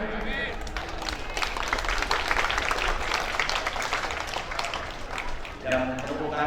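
An audience at a school anniversary ceremony for MAN 1 Banyuasin applauds steadily with dense, sustained clapping that fills the room, and voices come through near the end.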